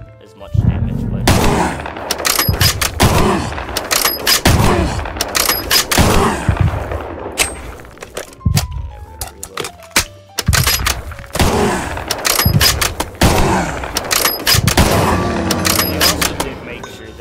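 Rapid bursts of gunfire from a Minecraft gun mod, sharp shots cracking out in quick clusters and short volleys, loud and close, with a voice talking over them.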